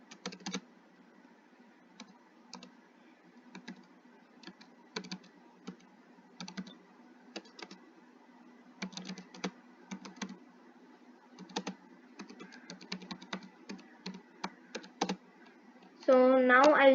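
Python code typed on a computer keyboard while building a calculator: steady bursts of crisp, close key clicks with uneven pauses, and a voice begins speaking near the end.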